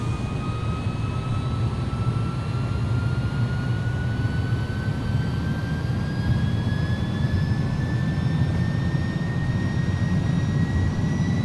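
Twin jet engines of an Airbus A300-600R airliner spool up to takeoff thrust in the X-Plane 11 flight simulator, a loud, steady roar with rising whine tones held throughout.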